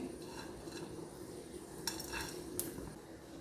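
Pepper, fennel seeds and fenugreek dry-roast in a pan for a Lakshadweep-style fish pickle. Close, soft scraping and stirring runs steadily throughout, with a couple of brief sharp clinks of utensil on pan.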